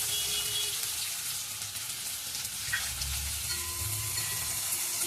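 Chopped onion frying in hot oil with asafoetida, a steady close broadband sizzle with faint stirring scrapes, continuous and even throughout with no voices.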